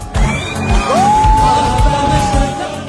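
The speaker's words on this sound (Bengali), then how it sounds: "প্রতিটি হামলার সাথে সাথে যেন উল্লাসে ফেটে পড়ছেন ইয়েমেনের মুসল্লিরা" Crowd of worshippers in a street in Yemen cheering at midnight, a loud, dense roar of voices with whoops and yells and a few sharp bangs, one rising shout standing out above the mass.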